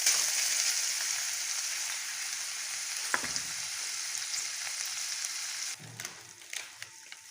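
Chicken with tikka masala sizzles loudly in a hot pan, the continuous frying hiss broken by a sharp clack and then stirring scrapes and pops near the end, with no talk.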